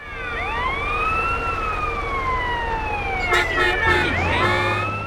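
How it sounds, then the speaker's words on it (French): A fire truck siren wails in GTA San Andreas, with long rising and falling sweeps close by over steady engine noise and a short choppy burst near the end. "Avec la sirène, là, c'est vraiment pratique, ça."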